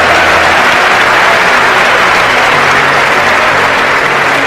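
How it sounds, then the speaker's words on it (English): Audience applause for a woman at a motivational speaking event, a dense, steady wash of many hands clapping that fills the whole stretch at full loudness. "Give her a round of applause, all right?"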